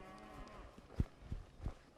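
Cattle lowing during a herding drive with horse and ATV, several short moos spaced about a third of a second apart over steady outdoor background noise, fairly close.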